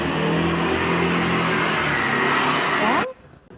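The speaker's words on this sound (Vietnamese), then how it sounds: "Ở đây tiếng xe cộ thì mình sẽ có thể thêm motorbike." City traffic with motorbikes, a loud continuous roar of engines as vehicles run past, holding steady for about three seconds before cutting off abruptly to near silence.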